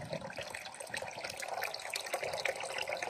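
Water pours steadily from a natural hometown spring, a close, continuous splashing and gurgling rush with no pauses.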